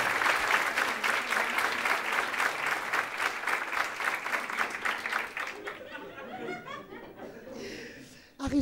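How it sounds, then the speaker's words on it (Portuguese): A live comedy audience gives a couple a warm round of applause, dense clapping mixed with chuckling and laughter that carries for several seconds, then fades into scattered laughs and talk. "Uma salva de palmas pra esse casal que é maravilhoso"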